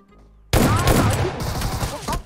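Sudden, loud, sustained automatic gunfire in PUBG Mobile erupts after a half-second of quiet, with rapid overlapping shots and echoing reports that continue to the end.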